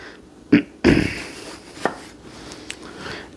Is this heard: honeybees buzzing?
no